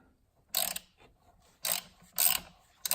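A ratchet wrench loosens a bolt on the alternator of a 2008 Ford Explorer Eddie Bauer Edition, giving four short bursts of clicking with brief pauses between them, close up and with no talking.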